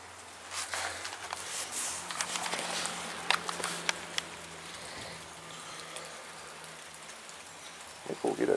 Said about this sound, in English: I think we'll get a good downpour out of this. Oh, a little bit of hail.